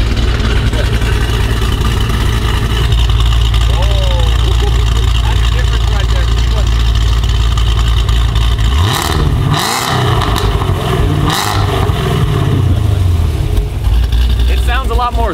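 Hennessey-tuned car engine idling with a deep, throaty exhaust note, steady and loud throughout, with people talking over it in the latter half.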